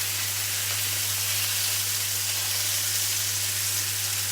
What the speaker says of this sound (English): Can you hear the lovely sizzle sound?